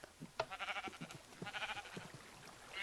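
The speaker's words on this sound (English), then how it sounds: "Come over here, sheep" Sheep in Minecraft bleat in a quick run of wavering calls, twice in a row at moderate volume, heard on a server while a sheep farm is being built.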